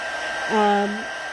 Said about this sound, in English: You want to keep the heat tool moving.